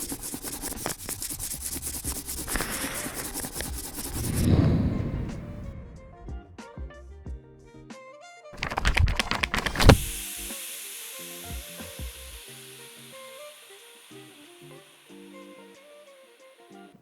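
An eraser rubs out a pencil mistake on paper in close, scratchy back-and-forth strokes, first in a dense run and then in a sharp burst, with quiet gaps in between.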